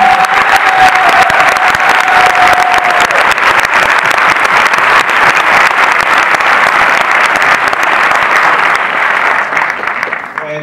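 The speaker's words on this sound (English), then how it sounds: "So I think we should give them a round of applause" A large cinema audience at a film presentation breaks into loud, sustained applause with some cheering mixed in, a dense roar of clapping that holds strong and tapers slightly near the end.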